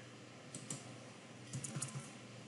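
Computer keyboard typing while entering survey data, a few quick bursts of keystrokes separated by short pauses, close and fairly quiet with no talking.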